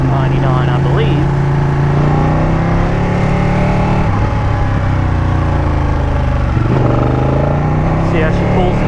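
A 2018 Ducati Panigale 959 Corse motorcycle pulls hard in second gear, its engine drone loud and constant with rising pitch, mixed with wind rush, while a rider's voice talks over it.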